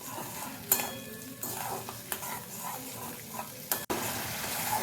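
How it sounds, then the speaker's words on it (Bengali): Spice paste for a vegetarian gathi kochu (taro) dish is stirred and fried in a pan, a soft sizzle under scraping spatula strokes and a few sharp clinks against the metal, close and fairly quiet. "মশলাটাকে কিছুক্ষণ নাড়াচাড়া করে কষিয়ে নিচ্ছি"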